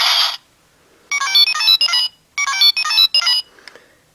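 DX Faiz Phone X toy from Kamen Rider in gun mode: a loud electronic ringtone-like jingle in several bursts after a short opening tone, with brief gaps between the bursts, then a faint click.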